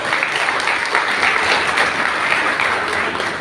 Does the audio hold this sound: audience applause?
yes